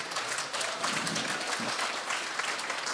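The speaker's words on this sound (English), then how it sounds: "Let's give her one more round of applause, you guys." A church congregation gives a round of applause for a woman who has just spoken; steady, dense clapping runs unbroken and fairly loud throughout, with no talk over it.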